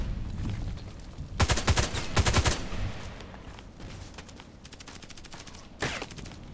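Automatic gunfire crackles in a shooting video game, first as loud rapid bursts in quick succession, then quieter scattered shots and one more sharp burst near the end.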